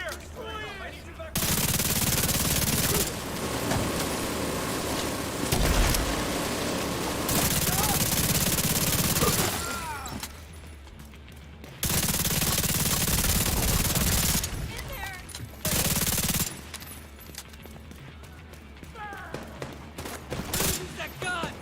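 Bursts of automatic gunfire from The Division 2 come in long, loud fusillades separated by short lulls, with players chatting over the comms between volleys.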